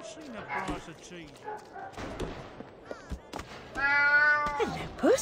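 A cat in the video game Alice Madness Returns meows a few times, with a drawn-out cry near the end, mixed in with game voices and background sounds.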